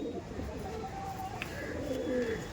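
Red China breed pigeons cooing in a loft, soft low coos under faint room noise, with a brief higher chirp near the middle.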